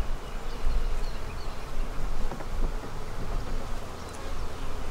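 Honey bees buzz steadily at an open hive in a bee barn during an inspection, a dense, continuous swarm drone close by with no talking.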